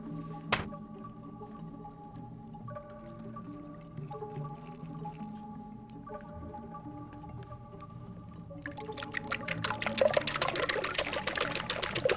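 Water is poured for a flour-and-water glue: a quiet, steady trickle under a faint hum, ending in a brighter, louder splashing pour over the last few seconds.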